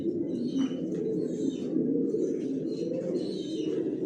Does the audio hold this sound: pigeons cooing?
yes